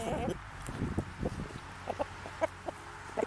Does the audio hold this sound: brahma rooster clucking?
yes